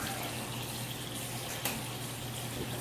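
Steaming hot water runs steadily from a tap while a 9mm suppressor is being cleaned, a continuous hiss of flowing water with a brief small knock partway through.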